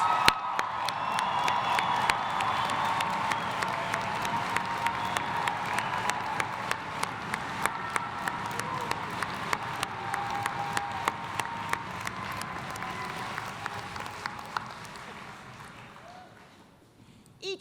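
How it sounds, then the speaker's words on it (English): An audience applauds graduates at a college commencement ceremony, a dense, sustained roar of many hands clapping in a large hall that holds steady and then fades away near the end. "Will everyone join me one more time in applauding these graduates?"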